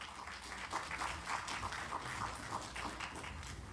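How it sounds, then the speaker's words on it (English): Applause from the audience at the 14th Belize International Film Festival, a quiet, steady patter of hand clapping heard from a distance with no talking. "Please give them another round of applause."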